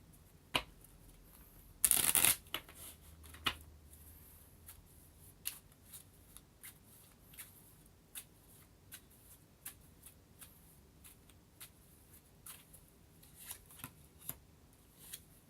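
Tarot cards being shuffled by hand in a quiet room, a brief loud riffle near the start followed by a long run of soft, scattered taps and flicks of the deck.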